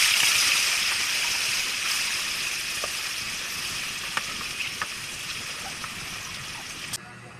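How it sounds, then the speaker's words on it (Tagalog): Tofu frying in hot oil gives a steady, bright hiss that slowly fades a little, broken by a few small pops and crackles, with a sharp tap near the end. "Ngayon, prituin muna natin yung tokwa."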